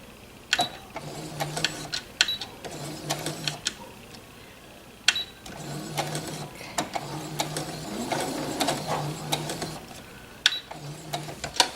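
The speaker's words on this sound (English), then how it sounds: "so I'm just going to backstitch right here." A sewing machine backstitches on a pumpkin place mat, a close, repeated mechanical clatter in short bursts of rapid stitching with brief pauses and sharp clicks between runs.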